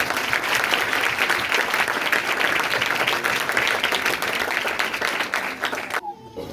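Church congregation applauding, a loud, steady wash of dense clapping that continues for several seconds before cutting off abruptly near the end.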